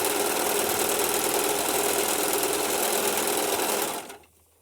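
A Singer Profinish serger stitches fabric in a loud, fast, continuous mechanical whir up close, running steadily for about four seconds before abruptly stopping into near silence.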